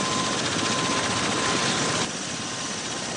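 A United States military V-22 Osprey tiltrotor aircraft flies overhead with a loud, steady rotor and engine roar. The drone is continuous and drops slightly in level partway through, with no voices.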